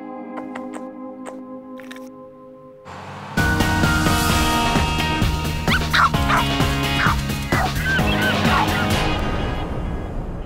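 A Chihuahua puppy yips and barks in short sharp bursts amid a busy, cluttered room sound, with a fowl-like gobbling noise and other clatter mixed in, fairly close and loud.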